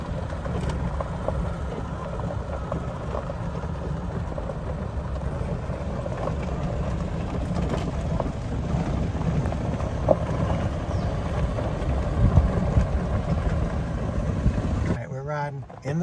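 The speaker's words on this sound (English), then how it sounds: "In the golf cart." A golf cart drives across a farm yard in rural western North Carolina, giving a steady, close motor and road rumble that runs throughout, with people talking over it.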